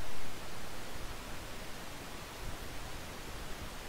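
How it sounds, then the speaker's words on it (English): A Boeing 747 auxiliary power unit starts up in the X-Plane flight simulator, a steady broadband whooshing roar that holds evenly throughout with no talk. "There is an APU sound."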